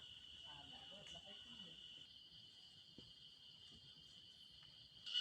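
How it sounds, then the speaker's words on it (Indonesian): Forest crickets chirp in a steady high-pitched drone on a steep mountain trail on Gunung Salak, with faint rustling and a brief louder noise near the end. "Suara jangkrik hutan timbul tenggelam menemani siksa raga di tanjakan curam halang rintang."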